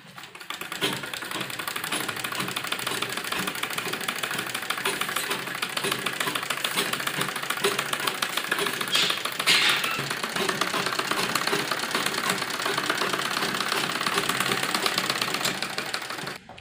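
A sewing machine runs a seam around the edges of a net blouse neckline for an embroidered lehenga, giving a steady, dense mechanical rattle that continues unbroken and close-up for the whole stretch, with no talking.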